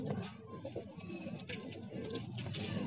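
Tonk pigeons cooing in a Bhopal pigeon loft, soft repeated coos amid busy ambient noise and chatter-like background, moderately close.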